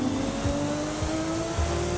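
A 1996 Subaru SVX with all-wheel drive laps Lighthouse Speedway, its engine holding a steady droning pitch that slowly climbs as the car drives on, with faint low thumps underneath.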